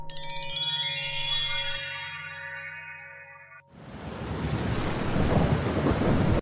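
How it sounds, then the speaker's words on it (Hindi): Steady, dense rain hiss fills the second half after a sustained tonal hum fades out, loud and continuous with no voices. "ये बारिश भी ना आज रुकने का नाम नहीं ले रही है"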